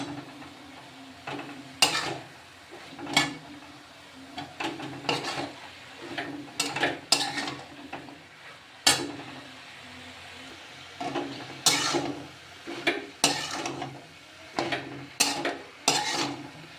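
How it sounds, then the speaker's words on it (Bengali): A spatula scrapes and clatters against a pan of frying beetroot in irregular bursts over a soft background sizzle, repeated stirring strokes close by. "এবার এগুলো সব একসাথে ভালো করে নাড়াচাড়া করবো"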